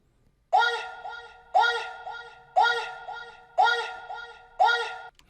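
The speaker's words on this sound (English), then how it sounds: "that's when I decided to add some vocal chops," Chopped vocal stabs from an Amapiano-style Afro beat repeat five times at an even pace, each a bright harmonic burst that fades, with little else underneath.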